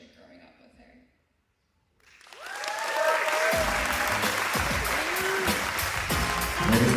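Loud, sustained applause from a wedding reception crowd honoring the bride, rising after a brief quiet gap and holding steady, with cheers and a voice over the clapping.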